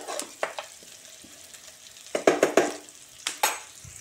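Onions frying for a paneer matar masala, stirred in a pan: a steady sizzle with sharp scraping and clinking bursts of the spoon against the pan, loudest in a cluster near the end.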